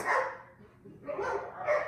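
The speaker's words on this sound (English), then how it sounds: "You guys see what I mean with the dogs?" Dogs bark in a few quick, moderately loud barks, repeated in short bursts a little distance off.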